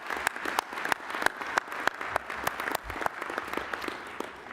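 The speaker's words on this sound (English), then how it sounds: "please give her a round of applause" Audience at an AFA business meeting and awards presentation applauding the administrative manager, a steady wash of many hands clapping with sharp individual claps standing out, moderately loud and sustained throughout.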